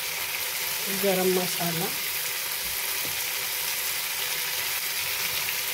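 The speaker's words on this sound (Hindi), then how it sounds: "लहसुन अब भून गया है" Garlic ginger paste fries in a pan with a steady, close sizzle that continues throughout. A voice speaks briefly near the start over the frying.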